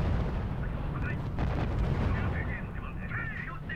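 Artillery and gunfire in the real-time strategy video game R.U.S.E., a dense rumbling barrage of booming shell blasts and shots, loud and continuous, with a radio-style voice speaking over it.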